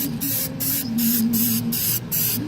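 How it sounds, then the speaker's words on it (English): Spray wax hisses from an aerosol can in about five steady bursts with short gaps, sealing chalk-painted furniture; close and loud, with no talk over it. "this is the spray wax to just seal it"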